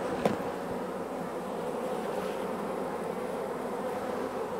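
Honey bees buzz steadily and close at an opened, queenless hive during a honey harvest, a dense continuous drone with no talking.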